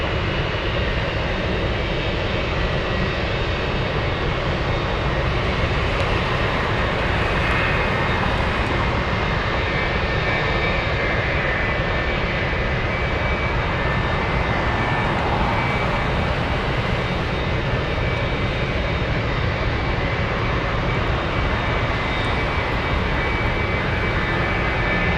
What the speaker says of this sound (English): And there goes the C-17.